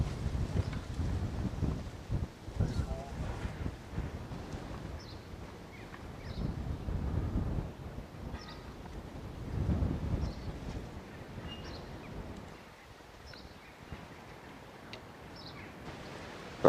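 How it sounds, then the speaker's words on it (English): Strong wind gusting at a fishing lake during a match at Moorlands Farm Fishery, a loud continuous rumbling buffet that swells and eases in waves over the whole stretch. "As you can hear in the background, the wind's quite bad."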